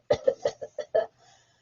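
A voice imitates a tentacled monster coughing horribly, six quick rasping hacks in a tight burst, up close and alone, followed by a faint trailing breath.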